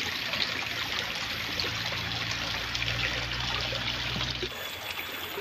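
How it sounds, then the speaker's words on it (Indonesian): Water trickling and streaming steadily along a small channel in a bonsai garden, a continuous close babble that holds level before easing slightly near the end. "Mantap. Airnya sampai, bos."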